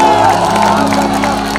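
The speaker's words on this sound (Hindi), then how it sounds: "गोलू के लिए एक जोरदार ताली हल्ला करके बजाइए आप सब" A stage-show crowd at a Bhojpuri event claps, cheers and whoops loudly and continuously for Golu, with dense shouting throughout.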